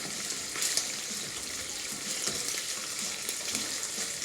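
Sausages sizzle and fry in a pan during breakfast prep, a steady close crackling hiss with brief louder spatters throughout.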